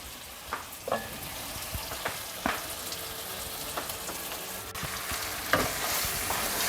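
Jamaican goat curry being stirred in a pot over a high flame, a constant frying sizzle broken by periodic scraping stirs every second or so, close up and without speech.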